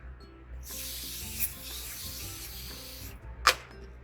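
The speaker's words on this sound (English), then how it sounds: "spritz my face with some mist" Face mist spritzed from a spray bottle, a soft sustained hiss lasting a few seconds, followed by a brief sharper spurt near the end, quiet and close with no talking.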